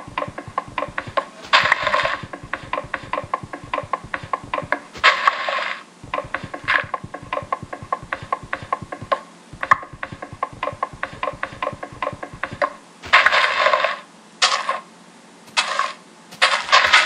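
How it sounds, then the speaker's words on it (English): Trees are chopped in Minecraft on Xbox 360, with rapid repeated blocky hitting sounds in steady bursts, loud and close, broken by brief pauses and a few sharper pops near the end. "So I'm just gonna go cut down these trees."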